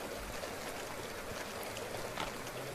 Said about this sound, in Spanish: comenzó la lluvia